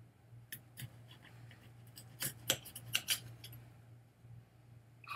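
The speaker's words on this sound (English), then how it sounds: "Let's cut her open and show you the" A knife slices open a Chocolate Primo/Reaper super hot pepper pod, giving a series of faint, close crisp snips and clicks over a steady low hum, with the sharpest cuts bunched in the middle.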